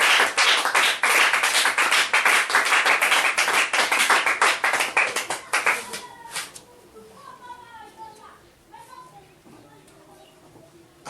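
A church congregation applauding, a dense run of clapping for about six seconds that thins out and stops, followed by quieter voices and singing-like tones.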